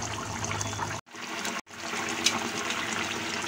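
Water splashes into a pan of egg korma, a continuous pouring rush broken by two short gaps before it resumes, close and fairly loud, with no voices.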